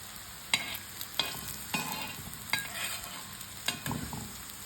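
Food is dry-roasting in a pan over a low gas flame. A quiet background crackle is broken by about six distinct scrapes and knocks spaced roughly half a second to a second apart as the food is moved, and no one talks.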